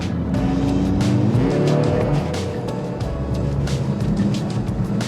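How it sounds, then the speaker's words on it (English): A Mercedes-AMG SUV with a four-cylinder engine drives hard, its engine droning and rising in pitch under steady load with tire and road noise throughout, loud and close from inside the cabin. "it's a 4-cylinder engine. It sounds brilliant."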